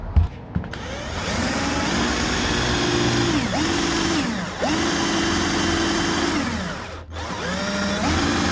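A drill fitted with a 5/32 bit bores into aluminium for brackets, a steady high whine running almost continuously with brief dips where the bit catches or eases off, close and loud with no talking.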